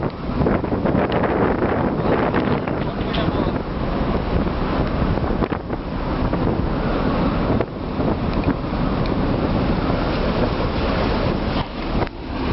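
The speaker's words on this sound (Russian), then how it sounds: "Сегодня что-то задул ветер." Strong, near-hurricane wind roars across the deck of the ship MV Celestine at sea, a loud continuous buffeting rush that batters the microphone with only brief dips.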